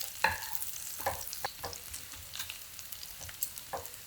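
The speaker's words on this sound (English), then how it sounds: "So I'm going to add the garlic." Garlic frying in a pan for pasta with tomato sauce, a low continuous sizzle broken by repeated scrapes and light clicks of a stirring utensil, close and fairly quiet.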